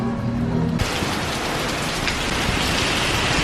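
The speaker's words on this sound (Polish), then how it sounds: "Ja później już nie nagrywałam, tak padało mocno." Heavy rain pours down hard and steadily in a continuous, loud wash of noise. A faint tonal hum fades out at the start.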